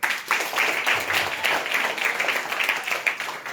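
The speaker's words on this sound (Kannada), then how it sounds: "ಜೋರಾಗಿ ಚಪ್ಪಾಳೆ ತಟ್ಟಪ್ಪ" A crowd claps loudly and steadily at a celebration event in Davanagere, a dense, continuous patter of many hands that holds at an even level throughout without any voices rising above it.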